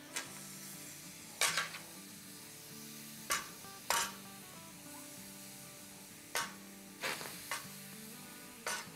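Goat kidneys fry on a hot tawa in a quiet, continuous sizzle, broken by several sharp spatula scrapes and clanks as they are stirred at uneven intervals.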